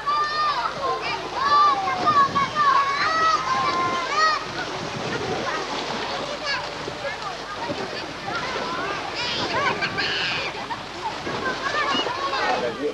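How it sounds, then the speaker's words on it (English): People bathe in the cool water of a river running down from a mountain among the Bidayuh, splashing and sloshing steadily for several seconds while children's and other voices chatter over the water. "bathe in the cool waters of the river running down from the mountain"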